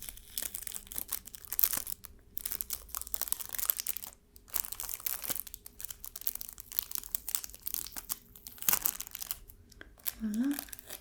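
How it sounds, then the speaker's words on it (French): Small contact lens blister packet being opened, with crinkly plastic and foil crackling and tearing in close, soft bursts across the clip, a faint voice murmuring near the end. "je vais ouvrir le petit paquet"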